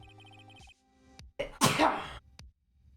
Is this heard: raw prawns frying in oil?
no